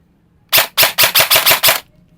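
A Poseidon XQ4 airsoft rifle fires a short full-auto burst of about seven sharp, evenly spaced, loud cracks at close range, then stops, with no talking.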